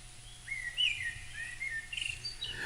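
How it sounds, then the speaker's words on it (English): Soft birdsong with several thin chirps and warbling calls over a quiet, steady ambient backdrop, gentle and continuous without any talking. "You got forest and wind and birds, soft rain ambient, sounds of nature."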